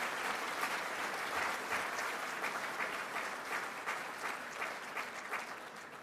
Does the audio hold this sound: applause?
yes